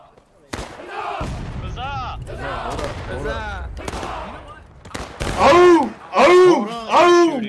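Musket shots in the Civil War game War of Rights, several sharp cracks and booming reports spread over a few seconds, mixed with loud shouting and cheering from many players close by.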